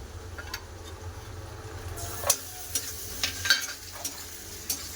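Onions frying in a pan with ground cumin and dried chilli paste give a steady sizzling hiss, with a few sharp clinks and scrapes of stirring scattered through.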